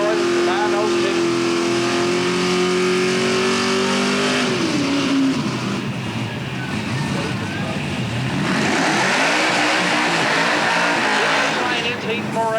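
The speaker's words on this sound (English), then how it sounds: "572 cubic inch big block Chevy under the hood in the Bud Lane" A drag racing car with a 572 cubic inch big block Chevy engine idles with a steady low rumble, then revs and roars loudly, someone talking over the engine noise throughout.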